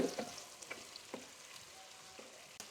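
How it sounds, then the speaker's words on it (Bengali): Chicken sautéed over high heat for a broccoli chicken dish crackles quietly in the pan, with a few light stirring scrapes spaced out over a soft, steady sizzle and no talk. "হালকা একটু সতে করে নেবেন চিকেন"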